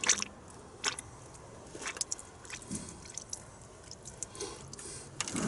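Diesel dripping from a disconnected fuel line on a 1966 Austin London taxi while the pump is hand-primed, heard as scattered soft wet ticks and squishes close by, with a few sharper drops over a quiet background.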